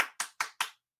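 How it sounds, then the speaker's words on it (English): Four sharp hand claps in an even, brisk rhythm, close and dry, each decaying quickly before silence. "Applause."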